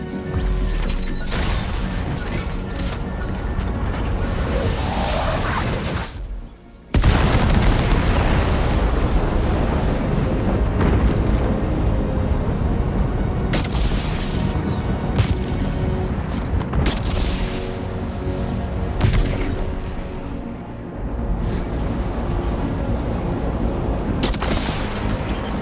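Weapons fire and explosions in the video game Death Stranding 2, a dense continuous barrage of booms and crashes with one brief drop near the start before the roar resumes.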